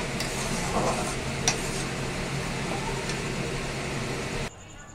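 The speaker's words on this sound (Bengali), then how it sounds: "মশলাটা খুব ভালো করে কষে নেব যাতে না তেল ছাড়ে মশলা থেকে" Spice masala fried in oil in a pan and stirred, with a steady close sizzle, soft scraping of a spoon, and a brief clink near the middle before the sound cuts off abruptly.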